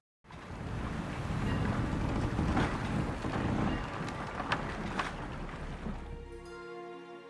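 A boat setting sail in The Witcher 3: a broad wash of wind and surging water with creaking, rising quickly and holding steady, then thinning near the end as a faint musical tone comes in.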